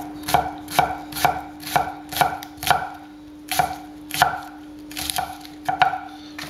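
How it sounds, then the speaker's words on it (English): A kitchen knife finely chops food on a cutting board, about a dozen crisp close taps in a fairly regular rhythm with short gaps, loud and alone over a low steady hum. "And then a fine chop bit."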